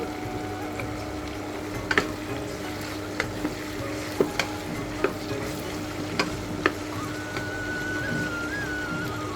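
Pointed gourd pieces are stirred into chicken vegetable khichuri frying in a pot, giving a soft steady sizzle broken by several sharp scraping clicks of a spoon against the pot.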